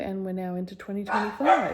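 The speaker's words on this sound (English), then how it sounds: "Sorry about the dogs barking." Dogs bark in short bursts near the end, partly under someone talking over them.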